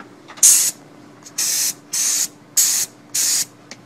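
An airbrush sprays bursts of air with no paint flowing, five sharp hissing blasts in a steady on-off rhythm, each about a third of a second long, close and fairly loud against a quiet room.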